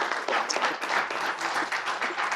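An audience at a press conference and awards event gives a short burst of steady applause, a dense patter of many hands with faint voices underneath.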